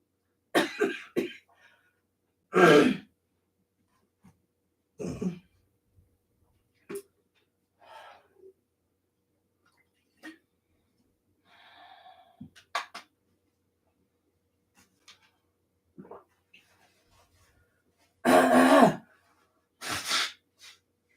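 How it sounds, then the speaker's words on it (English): A string of harsh coughs in separate bursts, some clustered and loud, with quieter breaths and throat sounds in the gaps. "I had to stay there till I manage that coughing fit"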